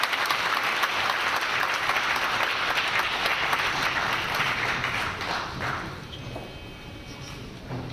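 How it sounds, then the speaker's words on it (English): Audience applause at a bankers' annual conference welcoming a finance minister, dense clapping from a large hall that holds steady, then thins and fades toward the end. "Round of applause as you welcome him."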